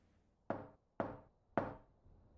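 Three crisp knocks on a door in the video game Final Fantasy VII Rebirth, evenly spaced about half a second apart, each a sharp thud with a short decay, alone and fairly close.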